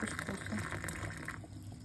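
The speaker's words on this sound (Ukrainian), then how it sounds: "Тепер я сюди наливаю стільки ж саме кипітку." Boiling water from a kettle pours over dry couscous in a bowl, a continuous close liquid gush that runs steadily for over a second, then thins and stops.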